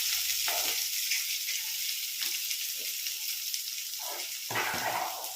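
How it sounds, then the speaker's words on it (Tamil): Mustard seeds, green chili, onion and curry leaves sauté in hot oil for a South Indian goat-head curry, giving a steady close sizzle and frying hiss with a few stirring scrapes and spatters. "கடுகு பொரிஞ்சதுக்கப்புறம் பச்சை மிளகா வெங்காயம் ஆனியன் கருவேப்பிலாம் போட்டு வர வதக்கிக்கலாம்"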